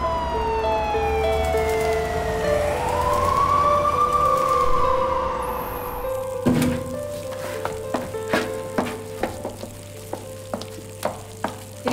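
Emergency vehicle siren wailing, its rising and falling tone swelling as it passes close by, then cutting off abruptly and followed by a series of sharp clicks and knocks.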